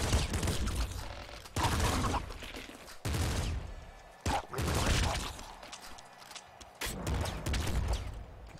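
A rapid series of loud, close shotgun blasts from the Assault Slugger in Nuclear Throne, fired in bursts separated by brief pauses.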